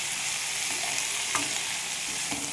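Chopped vegetables for Bengali chorchori sizzle in a hot pan with a dense, continuous hiss. A few faint stirring scrapes come through, and no one speaks.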